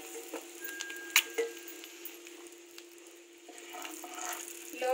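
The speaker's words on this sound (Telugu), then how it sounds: "లో ఫ్లేమ్ లో ఒక 2 మినిట్స్ వరకు ఇలా వేయించుకొని పక్కన తీసి పెట్టుకుంటున్నాను" Eggs fry gently in a pan over a low flame for egg curry, a faint soft sizzle broken by a few sharp ticks and utensil clicks, quiet and close, with no speech.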